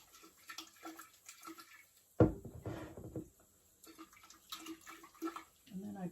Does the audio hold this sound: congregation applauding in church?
no